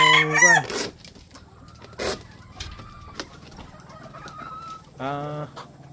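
Sweater and Round head gamefowl hens and roosters cluck and crow nearby, with a crow at the start, scattered clucks and clicks through the middle, and another crow near the end.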